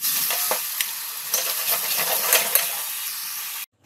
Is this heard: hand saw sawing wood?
no